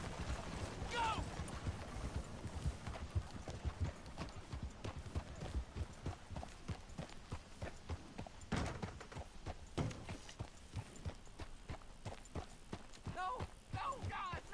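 A horse's hooves pound at a gallop in Red Dead Redemption 2, a dense, rapid drumming rhythm under game ambience, with a brief voice at the start.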